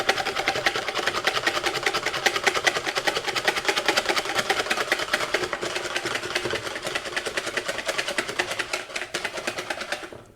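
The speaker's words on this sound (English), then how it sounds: "Here we have the melted butter. We'll whisk that in as well." Melted butter being whisked into Swedish-style pancake batter: a fast, steady run of rhythmic whisk strokes against the bowl that continues close and fairly loud throughout.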